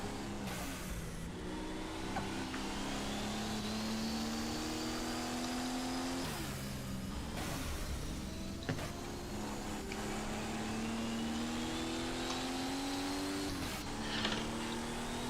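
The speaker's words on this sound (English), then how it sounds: "Up the hill, down the hill in his Porsche 934" On board a 1977 Porsche 934 race car lapping the Zolder circuit: the engine howls continuously and loudly, rising in pitch through the gears with sharp drops at each upshift and lift for braking, with no voices.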